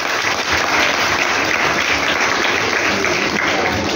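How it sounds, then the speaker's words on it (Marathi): Audience applauding steadily at a felicitation ceremony honouring a former student newly selected as a police inspector, dense continuous clapping throughout with no talk. "जरी टाळ्या वाजवायला सगळ्यांनी."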